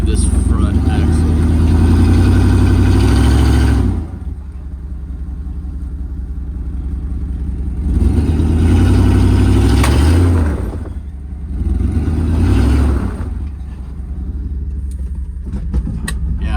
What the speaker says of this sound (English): I heard a pop and it started rattling